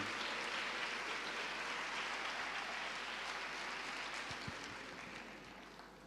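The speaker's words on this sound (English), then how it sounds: "let us raise him with a round of applause" Applause from an event audience in eMalahleni welcoming a health department official to the stage, a steady dense wash of clapping that holds for several seconds and thins slightly near the end.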